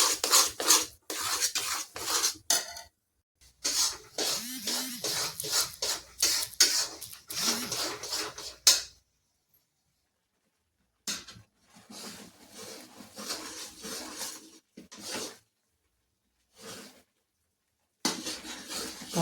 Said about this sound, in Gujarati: સતત આમને હલાવી અને લોટ સરસ સુગંધ આવે એ રીતના આપણે એને બધે શેકી લેવાનું છે